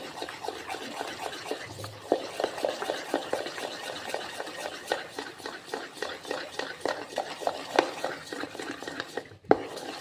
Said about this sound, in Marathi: आपल्याला एकाच डायरेक्शनमध्ये हे फिरवून घ्यायचं आहे अशा प्रकारे